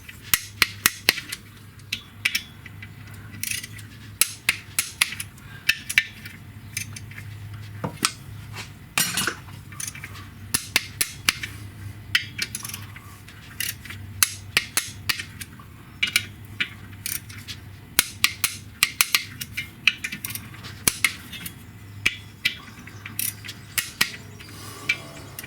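A short stubby ratchet clicks in quick bursts while tightening clutch pressure plate bolts on a 2000 Porsche Boxster, sharp metallic ticks repeating irregularly over a faint low hum in a quiet workshop.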